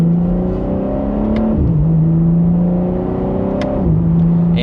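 BMW M4 Competition Convertible, a 2025 model, driving with the top down: a loud engine rising steadily through the revs, then dropping sharply at two upshifts and climbing again, heard from the cabin without talk.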